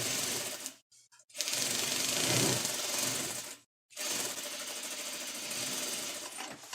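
A sewing machine stitches a tulle skirt in close, loud bursts of rapid mechanical whirring, pausing briefly twice between runs.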